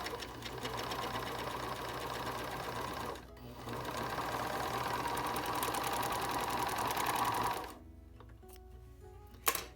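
Serger over-sewing the hemmed edge of a cloth napkin, a loud steady mechanical whirr with rapid stitching chatter, pausing briefly near the third second, then stopping with a quieter hum and a final click.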